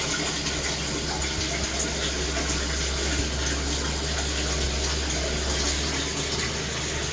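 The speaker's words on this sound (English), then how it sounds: "You can hear water going into the tank." Water rushes and gushes continuously into a septic treatment tank during a vacuum job on a blocked line, a dense, loud, steady churning with a low rumble and no talking.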